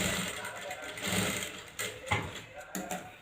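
A domestic sewing machine stitches a blouse in steady running bursts, with brief pauses and clicks between runs, close and fairly loud.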